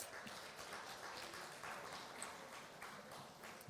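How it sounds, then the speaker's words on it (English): Steady applause from a conference audience as two speakers walk onto a stage at a financial leadership event, a dense, even wash of clapping held at moderate distance throughout. "Let's welcome them with a round of applause."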